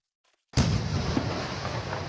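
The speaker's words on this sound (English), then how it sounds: "I blew my brains out with a fucking firework" A single sudden, loud blast from a firework going off in Garry's Mod, bursting out of silence and leaving a heavy, sustained roar that trails off without fading much.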